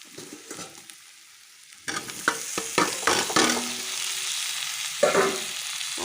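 Potatoes dropped into a pan of finely chopped onion, garlic, ginger and spices, starting with a quiet sizzle and then breaking into loud frying with clattering stirring strokes.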